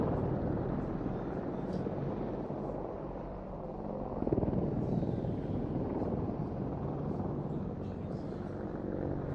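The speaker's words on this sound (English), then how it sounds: "The Apache pair will now perform a bunt in the centre of the airfield." A pair of British Apache attack helicopters performing a display at an airfield airshow, a steady distant rotor drone with wind across the microphone that swells briefly midway.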